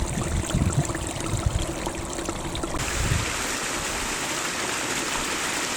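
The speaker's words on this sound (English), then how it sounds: "I love that sound. Beautiful little mountain stream like this, never boring." A small mountain stream flows steadily over rocks during a walk in Fforest Fawr, a constant close burble and trickle with a few louder splashes and no voices.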